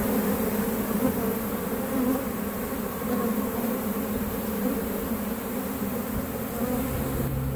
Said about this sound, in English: all up on the top of the hive fanning, telling their sisters to come home